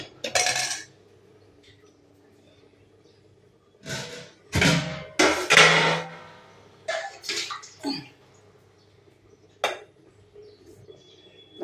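Dal in a cooking pot being stirred in separate bursts of metal-on-metal scraping and clanking, loud and close, with quiet pauses in between and no voices.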